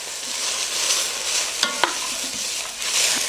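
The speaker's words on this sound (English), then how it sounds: "I'm gonna let this saute for about 5 minutes." Thinly sliced garlic, diced celery and diced carrots sauté in a pot with a steady bright sizzle, broken by a few sharp utensil knocks near the middle as the vegetables are stirred, close and with no talking.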